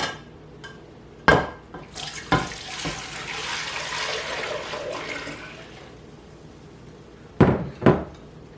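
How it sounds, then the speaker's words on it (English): Broth poured into a pot for Jamaican fish tea, a steady watery splash running for several seconds between sharper clanks of the pot and utensils at the start and end. "put my 8 cups of broth in this pot"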